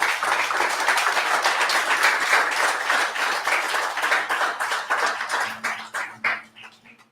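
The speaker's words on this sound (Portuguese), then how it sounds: "Aplauda a Jesus Cristo." A church congregation applauds together in a steady, dense roar of clapping that holds strong before thinning out and fading near the end, with a low hum under the final seconds.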